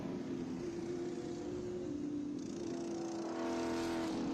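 A Trans Am TA2 race car on an early 2012-2013 Howe chassis runs through a section of the NJMP road course, its steady engine drone holding at a moderate distance and rising slightly toward the end, with no talk.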